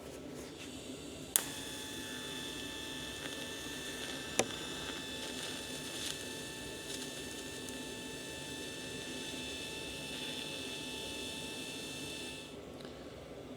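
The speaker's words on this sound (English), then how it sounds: "weld through here, and then we'll stop and check it and see what we look like." An arc welder set at 113 amps runs a bead on a driveshaft for a Mini Mack A40 build, a steady close buzzing hiss that holds for about eleven seconds between sharp clicks at the start and end.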